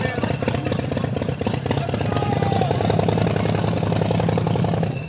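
Harley motorcycle engine idling outdoors, a loud, continuous low rumble with rapid pulsing firing beats, close by, with people talking over it.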